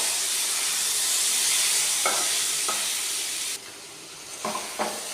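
Pumpkin pieces tipped into hot oil in a wok with dry chillies, five-spice seeds and ginger paste: a loud, steady close sizzle and hiss, dropping suddenly in level partway through, with a few stirring scrapes.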